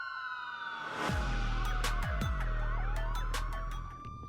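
Ambulance and police sirens wail together, rising and falling through overlapping sweeping tones, with a deep engine-like rumble swelling in after the first second, fairly loud and without speech.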